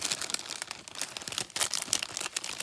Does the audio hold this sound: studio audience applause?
no